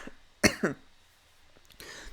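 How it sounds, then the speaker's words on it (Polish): Two short, close coughs in quick succession, followed by quiet and a faint rustle. "Muszę kaszlnąć."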